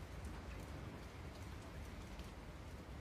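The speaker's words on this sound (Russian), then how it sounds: "Дождь идет." Rain falls in a soft, steady patter with scattered drops, faint and even throughout with no voices.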